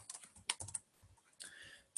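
Fingers tap quickly on a computer keyboard in short bursts of close, crisp clicks with brief pauses between them, heard alone without talk.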